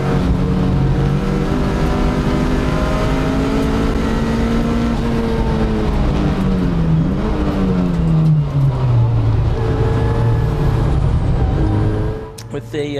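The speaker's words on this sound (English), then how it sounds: "It is the Hugh Gurney BMW then that has the lead of the race at the moment" Racing cars at Snetterton circuit during a 750 Motor Club Roadsports race, a BMW leading with an Audi A3 behind, engines droning loud and steady with pitch sweeping down as cars pass, under continuous commentary.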